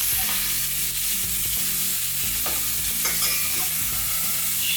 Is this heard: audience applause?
no